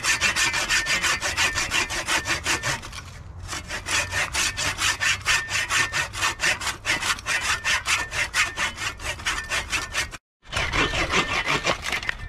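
Hand saw cutting a piece of wood on a sawhorse, close and clear, with fast even back-and-forth rasping strokes that run steadily, pause briefly once near the start and once near the end, then resume.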